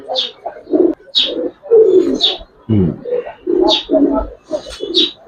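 An adult male Benarasi Kaldom pigeon coos repeatedly up close in a rhythmic series of low, throaty calls, with sharper chirps breaking in between.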